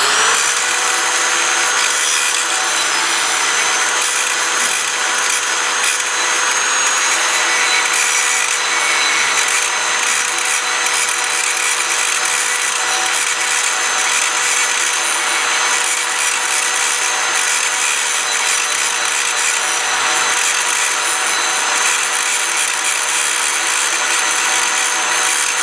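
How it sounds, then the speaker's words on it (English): A grinding wheel grinds down a spot on a weld during a hot pass, a loud, continuous harsh whir and scrape that holds steady for the whole stretch, with no talk. "now I'm going to take the grinding wheel because I don't like that spot"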